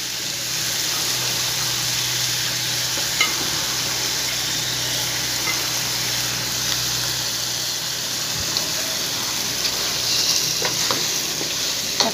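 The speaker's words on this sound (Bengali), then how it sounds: "এখন আমি চিকেনটা দিয়ে দিচ্ছি, চিকেনটা পরিষ্কার করে ধুয়ে নিয়েছি" Washed chicken pieces sizzle steadily in a pan of spice masala while being stirred, a continuous loud frying hiss with occasional scrape and clatter of the spoon, no voices.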